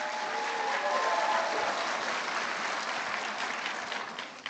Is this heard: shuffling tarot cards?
no